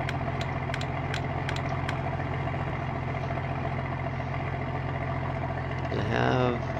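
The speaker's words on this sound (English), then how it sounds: "I do like the sounds on this truck." A Case IH 4540 Titan spreader truck idling in a farming video game, a steady low engine drone with faint clicks early on and a brief rise in engine tone near the end.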